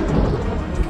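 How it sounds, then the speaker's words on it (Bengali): A loud thunderclap bursts and rumbles continuously through the whole moment as a sound effect in a Bengali mystery audio story, with rain noise mixed in beneath the deep boom. "প্রায় কাছাকাছি এসেছে এই সময় কান ফাটানো শব্দে একটা বাজ পড়ল কোথাও।"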